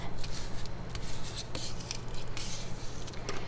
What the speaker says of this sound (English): a little squeegee, you can go like this to make it really flat